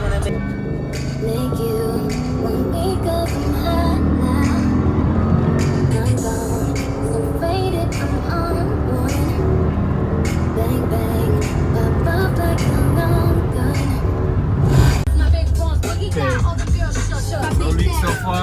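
A 2008 Cadillac STS with a 4.6L V8 and a newly replaced radiator drives along steadily, its engine drone and road rumble filling the cabin, with someone talking over the noise.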